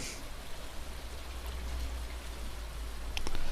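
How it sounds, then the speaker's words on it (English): Steady rain patters in the video game Stardew Valley, a soft, even hiss of falling drops on a rainy spring day with a faint low rumble beneath and a few brighter ticks near the end, no voices. "The sound of the rain just lulls you."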